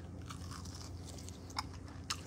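Two sharp, crisp crunches of teeth biting into crispy grilled spare ribs stand out over a steady low background hum.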